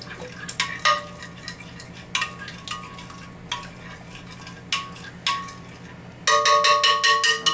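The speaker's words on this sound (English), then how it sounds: "I'm going to mix that around in there, get that mixed through" Apples tossed with cinnamon and lemon juice in a bowl, a utensil scraping and clinking against the bowl in irregular strokes, then a quick burst of rapid ringing clinks at the end, close and fairly clear.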